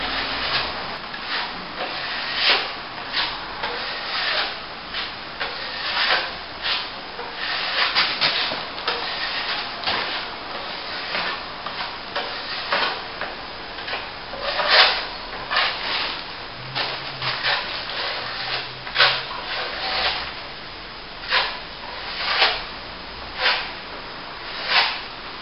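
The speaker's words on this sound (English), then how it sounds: "Just putting a very, very fine skim of the top coat on there" Steel trowel rubbing a very fine skim of acrylic top coat over plasterboard repairs, a steady scraping swish in repeated strokes with short pauses, close and fairly loud, no talking.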